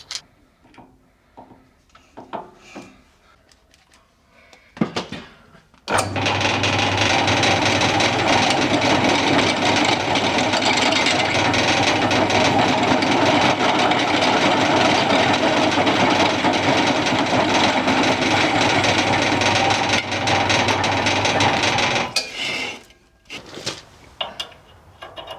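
Step drill boring out a washer during a Series Land Rover restoration: after a few faint clicks, a loud, continuous grinding whine runs for about sixteen seconds, then cuts off into scattered knocks.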